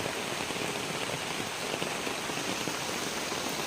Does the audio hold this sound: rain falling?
yes